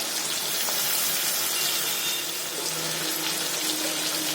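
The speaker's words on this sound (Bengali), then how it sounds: "একটু সামান্য জল দিয়ে দিচ্ছি" A little water poured into a pan of chicken with ginger-garlic paste and green chili paste, making a steady, loud rushing hiss of liquid hitting hot food throughout.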